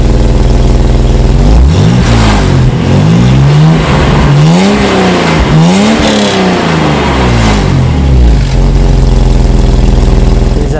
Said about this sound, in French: Je vous propose tout simplement d'écouter tout de suite la musique distillée par ce gros moteur Opel des années 80.